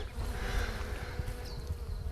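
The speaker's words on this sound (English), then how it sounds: "There are so many bees on this pollinating." A steady swarm of bees buzzes nearby, a continuous droning hum with individual insects rising and falling in pitch over it.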